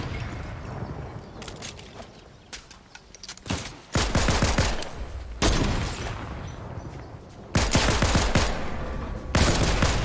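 Loud, rapid gunfire bursts in the video game Fortnite, repeated automatic volleys and heavy booming shots coming in clusters with brief pauses, close and dominant throughout.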